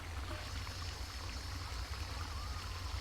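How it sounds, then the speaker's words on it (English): A steady, soft wash of falling water, continuous and even, with no voices or other distinct sounds over it. "And the sound of falling water"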